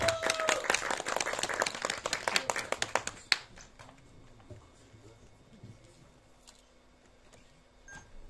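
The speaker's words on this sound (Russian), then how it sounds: "Ваши аплодисменты." Audience applause at an Old New Year concert-style house gathering at the Energetik culture hall, brisk dense clapping for about three seconds that quickly dies away into a quiet room.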